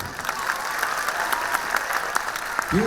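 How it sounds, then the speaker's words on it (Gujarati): Steady applause from an audience at a school annual function in Rajkot, cheering girls after their performance, dense clapping throughout with a voice breaking in at the very end. "આશીર્વાદ આપી દો દીકરીઓને તાળીઓથી"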